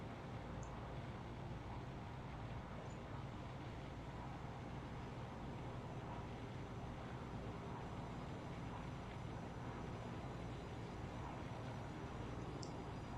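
A DHC-4 Caribou in the Orbx flight simulator drones on a single engine with the right one feathered, a steady, low, unbroken hum that stays faint throughout.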